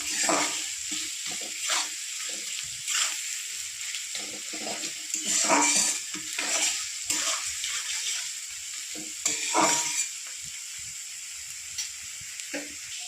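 Onions with salt fry in a pan, giving a steady crackling sizzle with bursts of louder spattering and stirring noises, close up and without talk.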